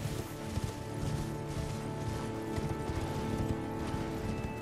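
Video game horse hooves galloping in a steady rapid clip-clop beneath a dense, continuous game soundtrack, with no talking.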